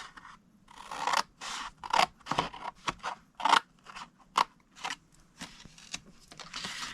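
Scissors cut through paper to a score line in a series of distinct crisp snips and crunches, close and fairly quiet, with short pauses between cuts.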